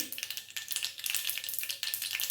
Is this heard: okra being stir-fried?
yes